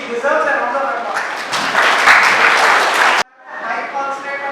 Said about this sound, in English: he deserves an round of applause